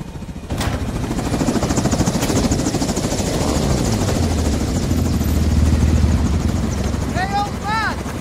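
A helicopter in the Call of Duty Modern Warfare 2 campaign, a loud continuous rotor thump and engine drone close by, with a brief burst of radio chatter near the end.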